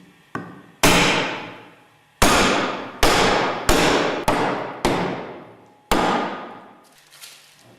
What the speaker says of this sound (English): Drive the closing chamber bottom downwards using light blows with a mallet.